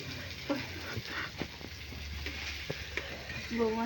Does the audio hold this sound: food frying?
yes